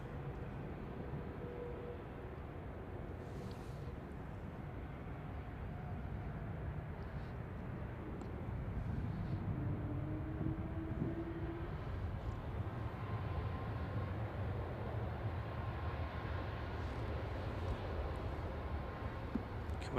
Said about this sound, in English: First A380 departure of the day from Manchester.